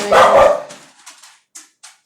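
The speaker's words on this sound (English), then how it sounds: "You're going to hear my dogs in the background." Dogs barking at home, a loud burst of barks up close at the start followed by a few fainter, shorter yips and woofs trailing off, no talking.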